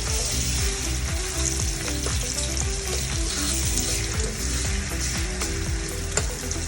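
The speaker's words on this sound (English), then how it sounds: "so we'll be allowing this to fry for 1 minute" Egg sauce with curry powder fries in a pan with a steady, dense sizzle and crackle, close and continuous throughout, with occasional faint scraping of stirring.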